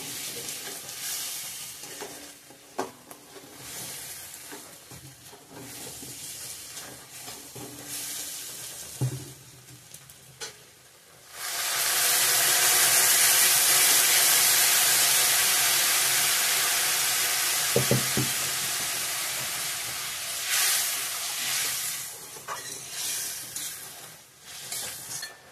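Chicken curry in a pot starts hissing and sizzling loudly as water is poured in over the fried spices. The bubbling simmer then holds steady for a long stretch, with a few light stirring clinks before and after.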